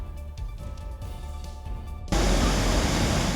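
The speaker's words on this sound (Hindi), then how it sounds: "इसके चारों ओर पानी का तेज बहाव दहशत पैदा कर रहा है" Torrential-rain floodwater surges fast past a drain in Katni, a loud, steady broadband roar that jumps sharply louder partway through and then holds up close.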